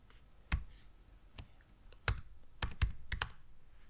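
Sparse, sharp keystrokes on a computer keyboard while code is typed, a few isolated clicks followed by a quicker cluster of taps, close and fairly quiet over a hushed room.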